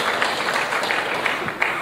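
An audience at an air cargo industry conference applauds steadily, a dense, even wash of clapping at moderate distance with no one talking.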